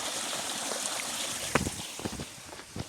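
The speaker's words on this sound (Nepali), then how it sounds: "यहाँ हेर्नुहोस् क्या मस्त खोला" A mountain stream flows nearby, a soft, steady rush of water with a few brief louder splashes and gurgles toward the end.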